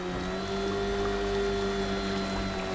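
A 58V ECHO powerhead motor on a Kayakbuddy engine leg drives an 11 ft Cobra Explorer kayak at full throttle, a steady, loud, high-pitched whine with strong harmonics that holds constant throughout.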